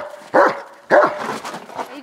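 Two sharp dog barks close by, about half a second apart, followed by softer whimpering dog noises.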